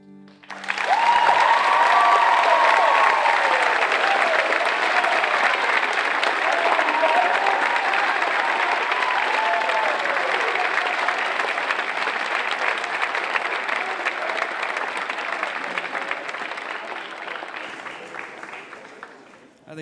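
Sustained, loud audience applause fills a large hall at a cat-themed 2017 awards show, a dense wash of clapping that holds steady for most of the stretch before slowly thinning near the end.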